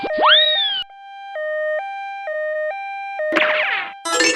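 A toy ambulance from a doctor playset sounds an electronic two-tone siren, loud and alternating evenly between high and low notes. Rising chirpy boing effects come before it and bursts of electronic noise follow.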